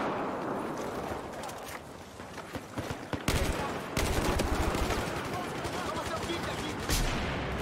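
Sustained M16A4 rifle fire in Battlefield 4, dense rapid shots with bursts and a brief pause, loud and continuous with a voice talking over it.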